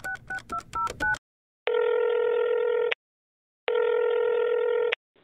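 Telephone dialing on a big prop phone: a quick run of about six touch-tone beeps, then two long, steady dial-tone bursts separated by silence, loud and close with no talking.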